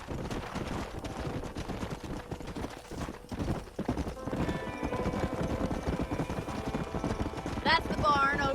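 Horse hooves clip-clop in Red Dead Redemption as a rider travels to a farm, a steady rhythmic trot under game music and characters' voices, with a horse whinnying near the end.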